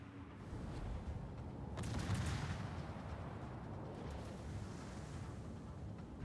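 Battleship main guns fire in World of Warships, a faint distant boom with a rumbling, surf-like tail that swells after about two seconds and then fades slowly, with no talk over it.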